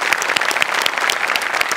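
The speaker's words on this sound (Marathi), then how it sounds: "जोरदार टाळ्या." A studio audience at a Marathi comedy sketch show claps loudly, a dense, steady burst of applause throughout.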